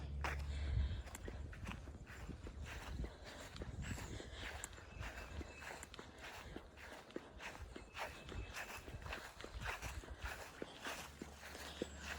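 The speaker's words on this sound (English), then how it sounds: "I think the donkey's gonna go on back." A donkey walks away along a dirt path at a South Carolina state park, its hooves making soft, irregular clip-clop steps over steady outdoor background noise.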